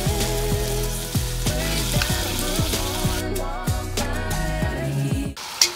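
Goulash meat sizzles and crackles loudly in hot oil in a Dutch oven, a dense steady frying hiss with pulsing low bubbling, close by and without talk.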